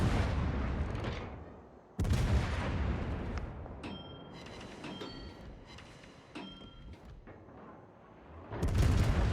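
Heavy warship gun salvos boom in a World of Warships naval battle, with loud broadband blasts at the start, around two seconds and near the end, and lighter sharp reports and mechanical clanks in between.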